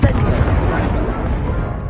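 A fire spell bursts out in a wizarding video game, a dense roaring whoosh of flame that holds steady for a couple of seconds and then thins at the top.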